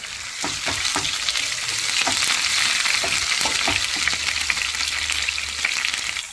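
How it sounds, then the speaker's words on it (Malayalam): Shallots frying in hot oil with mustard seeds in a pan, a steady bright sizzle with a few sharp spits and stirring clinks, close and continuous with no voices. "ചെറിയുള്ളി നന്നായിട്ടൊന്ന് മൂക്കട്ടെ"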